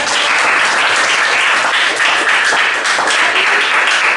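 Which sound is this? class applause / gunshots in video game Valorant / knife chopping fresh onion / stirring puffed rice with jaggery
class applause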